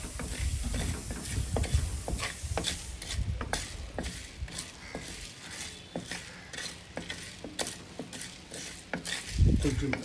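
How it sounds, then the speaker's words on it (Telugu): Coriander seeds and cumin dry-roasting in a pan for a chicken garlic chili powder, with repeated scraping and clicking of a spoon stirring the seeds over a faint sizzle. "వీటన్నిటిని బాగా దోరగా వేయించుకోవాలి."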